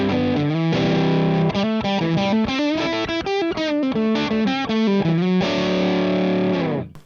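An electric guitar runs through a Joyo Jackman distortion pedal with the tone knob at 10 o'clock, playing a loud continuous riff of sustained distorted chords and note runs that ends on a ringing chord.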